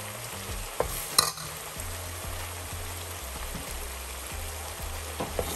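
Turmeric, cumin and masala spices being stirred and fried in a pan for a king prawn curry. A soft sizzle runs throughout, broken by regular scraping stir strokes, close and alone.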